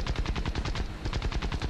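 Rapid aircraft machine-gun fire in War Thunder, several dense bursts of rattling shots running almost continuously and loudly, with a slight dip midway before firing resumes.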